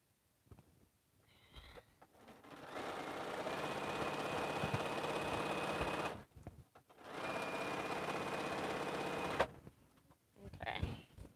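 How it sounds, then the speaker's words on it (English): A home sewing machine stitches quilt pieces for an African-themed quilt in two long steady whirring runs separated by a short pause, with faint handling noises at the start and end. "I'm just sewing on some pieces that's going to another project"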